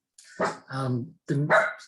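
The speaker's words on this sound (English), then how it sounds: "Excuse the dog." A dog barks indoors in a few short bursts during a seminar talk, fairly close and loud, with the barks dominating the brief moment.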